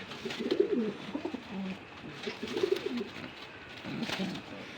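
A pair of Maxi racer pigeons at a pigeon farm coo in soft, throaty, rolling phrases, three separate bouts heard up close with brief quiet gaps between them.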